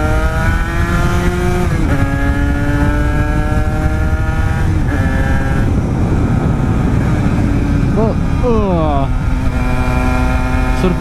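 An A1-class motorcycle with a power-valve engine revs hard and accelerates through several gear changes, the engine note climbing and dropping loud and close, with wind rush behind and a rider talking over it.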